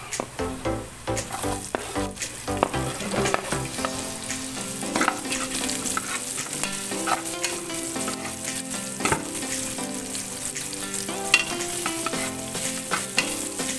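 Onions sautéing with a loud, busy sizzle in a pan for beef pares, with frequent stirring clatter and scraping over the steady frying hiss throughout.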